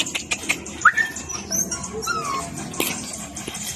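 Puppy at a pet market, about three months old, giving a few short whimpers and yips close by over a busy, chattering market background.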